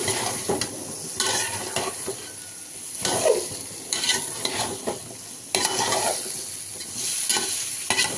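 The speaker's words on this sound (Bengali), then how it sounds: "এখন সবজিগুলো দিয়ে দেব। বেগুন, সাথে আলু আছে।" Eggplant and potatoes go into a hot curry pan with a little gravy, giving a steady close sizzle broken by several bursts of stirring and scraping against the pan, with no talking.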